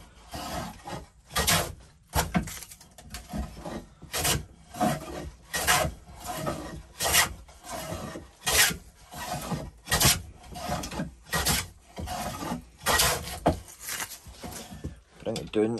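A Record No 5 1/2 jack plane shaves wood in a steady series of about ten close, rasping strokes, each a short scraping swish followed by a brief pause as the plane is drawn back.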